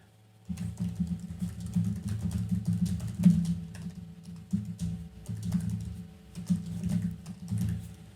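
Fingers type steadily on a computer keyboard, a close run of soft clicking keystrokes with brief pauses, over a low steady hum.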